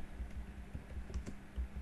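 Keys clatter on a computer keyboard while text is entered into a Microsoft Word pay slip document. Quick, soft clicks come in short irregular bursts, close and alone with no talking.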